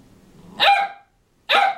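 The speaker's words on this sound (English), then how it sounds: "you're a very loud puppy" Two loud, high-pitched puppy barks, close by, separated by a short pause of silence.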